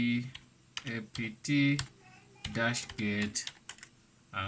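Someone types a sudo apt-get package-removal command on a computer keyboard for Kali Linux, close and clear in quick bursts of clacking keys with short pauses between.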